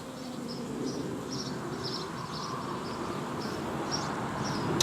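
Bees buzz around a hive in a steady, dense drone, close and continuous, with faint higher whines from individual insects passing near.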